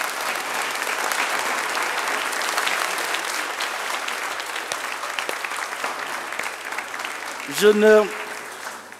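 An audience applauds steadily for several seconds at a thank-you ceremony, a dense, even wash of clapping that fades slightly before a voice breaks in briefly at the end.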